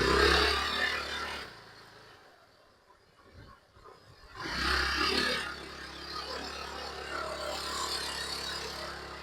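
A 12-year-old Honda Activa scooter engine runs loud and steady, with a quieter dip in the middle before the broad, rough drone returns and holds, close to the listener.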